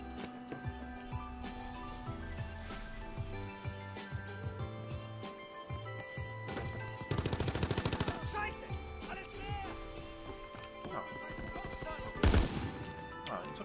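Gunfire from a gun in an online video game, bursts of shots over a steady music-like backdrop, densest around the middle and near the end, with game sounds around.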